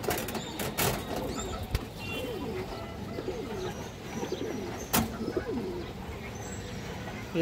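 Female pigeons in a seller's coop coo in repeated low, rolling phrases, close and steady, with a few sharp knocks and rattles breaking through.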